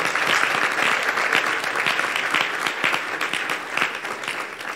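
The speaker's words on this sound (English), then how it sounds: "Please, let's give another round of applause." Seminar attendees at an SEC capital-market session in Takoradi give a round of applause: many hands clapping in a thick, even wash, strong at first and easing slightly toward the end.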